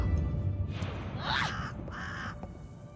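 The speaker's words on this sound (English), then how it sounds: "Ah, crows!" Crows caw in the video game GV Wartile, with two or three harsh, rasping calls in quick succession over a steady low background of game ambience, fairly close and clear.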